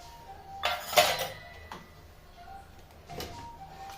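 Clinking of a spoon against a dish while curd is spooned out for mango lassi in a kitchen, two brief clatters a couple of seconds apart over quiet room noise.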